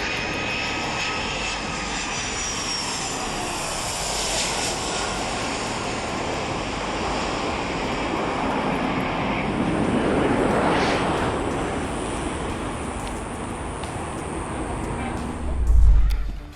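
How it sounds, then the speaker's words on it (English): An American Airlines Boeing 757 landing at Tegucigalpa, Honduras: a steady, loud jet engine roar holds throughout, swelling slightly midway, with a brief low thump near the end. "Watch as a skilled pilot lands an American Airlines Boeing 757 in Tegucigalpa,"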